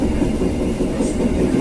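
KA Siliwangi passenger train running along straight track between Cipatat and Cianjur, heard from the rear: a steady, loud rumble of wheels on rails with low engine drone and no voices.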